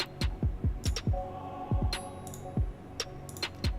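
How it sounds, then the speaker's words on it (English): Percussive, drum-like hits in a steady rhythm, each with a sharp attack and a falling low thump, passed through the Soundtoys Panman panning effect on its default preset in a Studio One 3 production session. "For the Panman effect, I'm using Soundtoys Panman, and this is the default."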